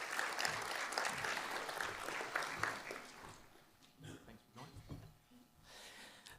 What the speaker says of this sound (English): you can go ahead and applaud as they come up.